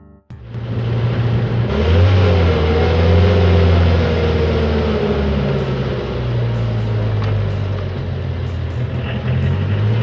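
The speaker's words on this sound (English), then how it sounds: "Rocket trailer truck." Toy rocket trailer truck engine sound effect, a loud close electronic rumble and revving drone that swells after a sharp start and holds steadily to the end, with no talk.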